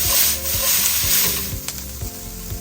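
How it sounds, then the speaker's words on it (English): Onion softening in a hot pan for Cantonese braised pork ribs, giving a steady sizzle and frying crackle with soft stirring scrapes throughout, close and moderately loud, with no voices. "Cook a couple of minutes to soften the onion."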